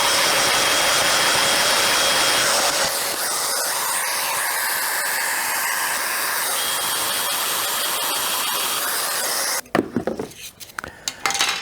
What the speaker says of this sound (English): now we'll get this clamped and cut our mortises